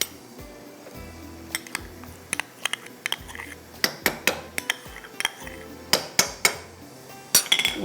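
Rice, a little oil and butter go into a pan in a home kitchen, giving a run of sharp clinks and clatters of utensils against metal cookware, close and fairly loud, with a low background hum and no talk.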